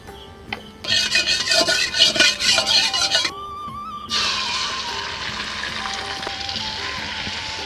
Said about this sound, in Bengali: এখন আমি কড়াতে তেল দিয়ে ডিমটা উঠিয়ে দিচ্ছি